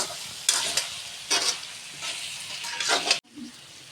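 Chicken curry masala fries in a pan, sizzling with bursts of louder hiss as it is stirred in several strokes, ending with a clatter and a quieter sizzle.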